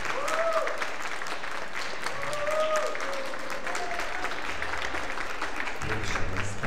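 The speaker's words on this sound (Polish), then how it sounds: "Wielkie brawa, dodajmy im odwagi." Spectators at a ballroom dance competition clap in sustained applause that carries on for several seconds, with voices calling out over the clapping.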